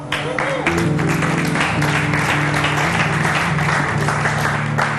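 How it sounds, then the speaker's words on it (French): Audience applauding at a tribute show, loud continuous clapping layered over a steady music track with a voice speaking through it. "Vous êtes en train d'applaudir."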